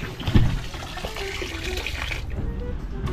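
Tap water pouring into a filling barrel, a continuous splashing gush close by with a brief louder burst near the start and steady running after.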